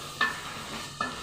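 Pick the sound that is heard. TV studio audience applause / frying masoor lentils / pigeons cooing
frying masoor lentils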